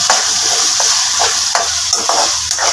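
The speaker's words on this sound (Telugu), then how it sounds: "పైకి వచ్చిందాక ఫ్రై చేసుకోవాలి" Masala and chili powder fry in a pan for gongura chicken curry, a loud continuous sizzle close by, with rhythmic stirring scrapes roughly every half second and no talking.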